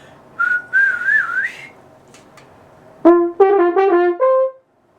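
A person whistles a short musical phrase up close at a horn audition clinic, a wavering sustained note first, then after a pause a series of clear, distinct notes.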